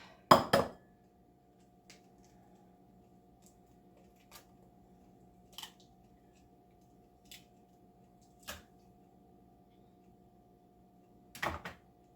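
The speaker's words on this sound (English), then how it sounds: "Now I'm going to close my cupboard door." Kitchen cupboard door shutting in a home kitchen during cake baking: one sharp close knock, then a few faint scattered taps and clinks in a quiet room, and a last cluster of knocks at the end.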